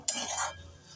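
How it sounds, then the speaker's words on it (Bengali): Ghee-coated vegetable chop filling stirred in a pan, a burst of utensil scraping and clinking for about half a second, then a faint low sizzle of frying. "এবার নেড়ে চেড়ে 2 মিনিট ভেজে নেব।"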